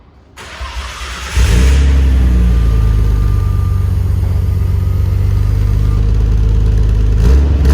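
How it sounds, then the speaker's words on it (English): A Nissan R34 GTR fitted with a Nismo aftermarket muffler starts and settles into a loud, close, steady deep drone with a raspy exhaust edge that holds for several seconds. "So the Nismo, you can buy that aftermarket. Aftermarket muffler."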